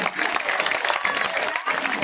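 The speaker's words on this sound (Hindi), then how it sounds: "दोनों हाथ उठा के आगे पीछे के साथ ही जोरदार ताली हमारी बहन के लिए बजाइए" A crowd at a ward-level political rally applauds in a loud, continuous burst of many hands, with a speaker's voice carrying on over the clapping.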